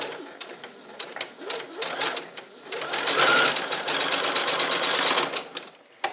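A sewing machine stitches a second seam 2 cm from the fabric edge, a fast steady mechanical whirring chatter running almost continuously, close and fairly loud, briefly slowing before stopping.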